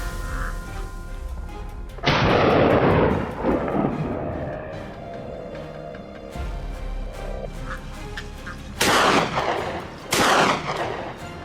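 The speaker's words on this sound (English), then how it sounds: "Instantly, I raised my rifle. One deafening shot, and the boar dropped in the spot." Rifle shots fired at a wild boar outdoors: a few deafening, booming cracks with long rolling echoes, spaced several seconds apart, no talking.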